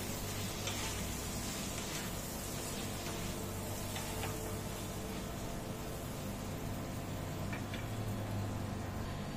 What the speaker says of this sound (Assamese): এয়া মই ফুলকবিখিনি হাফকে ভাজি ললো।